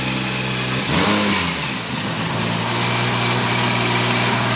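A JZX car engine idles under tuning, then gives one quick rev off idle that swells and falls back to a steady, close, loud idle hum, with no voices.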